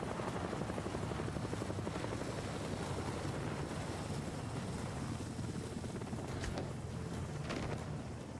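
A video game helicopter's rotor thumps and roars continuously at high volume, a steady, dense wash of noise with no voices.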